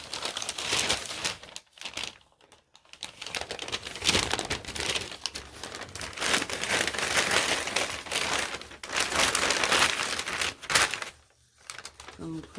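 Gift paper crinkles and rustles while being packed around a mug in a heart-shaped basket, in a steady busy stretch of close crackling with brief pauses and speech mixed in.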